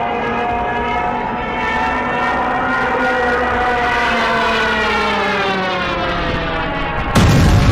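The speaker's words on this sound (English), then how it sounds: "the wind-driven siren attached to the landing gear struts, known as the Jericho Trumpet, which produced a high-pitched wailing sound during a dive" A Stuka dive bomber's wind-driven Jericho Trumpet siren wails loudly in a dive, its pitch sliding in a long continuous scream before an abrupt cutoff into a burst of noise.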